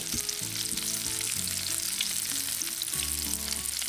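Italian meatballs sizzle in a pan with a constant, close crackling hiss, accompanied by a soft low tonal hum underneath.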